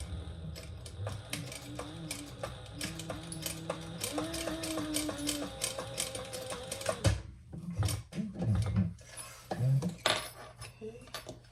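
A sewing machine runs in short stitching bursts while sewing a crossbody bag, its rapid mechanical chatter broken by pauses and clicks of handling, close and moderately loud.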